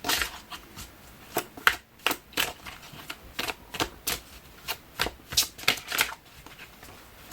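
A deck of oracle cards is shuffled up close, with repeated crisp riffling bursts and sharp flicks in an uneven rhythm, loud and clear, with no voice over it.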